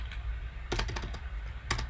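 Quick clusters of keystrokes clatter on a computer keyboard during a coding session, close and crisp, arriving in short bursts over a low background hum.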